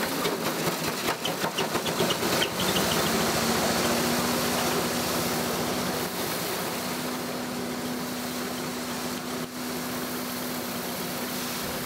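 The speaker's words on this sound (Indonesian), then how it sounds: "Itu nama mesinnya Haller." A coffee huller machine runs continuously, stripping the skins from dried coffee to get green beans, a loud dense mechanical roar with a rattling, knocking texture and a steady hum, close and unbroken throughout with no voices.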